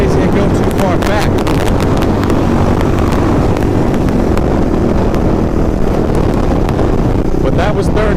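Kawasaki KLR650 single-cylinder motorcycle engine pulling hard during a wheelie, loud and close, heavily buffeted by wind rushing over the microphone, with a rider's voice partly audible over the noise.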